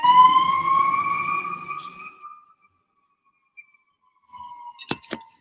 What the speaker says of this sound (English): that ambulance ended like right close to our neighborhood.